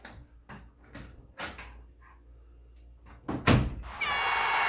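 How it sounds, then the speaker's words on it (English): A door being pushed up on its refitted hinge pin gives several close knocks and thumps, a heavier clunk near the end, then a sustained scraping hiss. "when you push the door up and put the pin back in"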